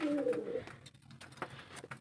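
Pigeons in a small backyard loft give a short, fairly close cooing call, followed by quiet rustling and faint background sounds.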